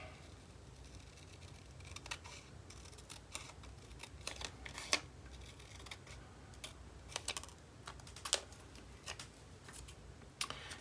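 Scissors snip paper for a collage glue book, giving a string of sharp, close cuts and crisp rustles at irregular intervals against a quiet room, with no talking.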